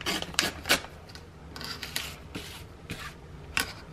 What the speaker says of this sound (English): I will tear these top and bottom pieces off.